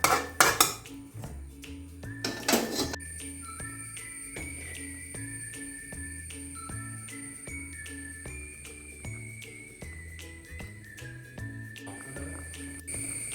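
A spoon clatters and scrapes against a metal pot as Kerala mackerel (ayala) fish curry is mixed, with a few quick clinks near the start, then quieter stirring under steady background music.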